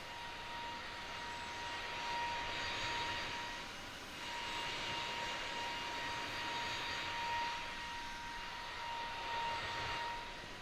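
Jet engine drone from an iniBuilds A20N in a flight simulator game, a steady broadband roar with a thin whine that swells and fades in slow cycles, heard alone.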